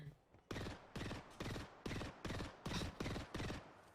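Apex Legends gunfire, a rapid burst of about eight evenly spaced loud close shots following a quiet start, each crack sharp and punchy.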